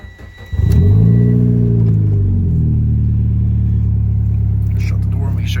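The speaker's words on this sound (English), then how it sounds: "Foot on the clutch. Key in ignition." A 2010 Mitsubishi Lancer Evolution GSR engine cranks and fires, surging in a sharp rev before settling into a steady, throaty idle, heard up close from inside the car.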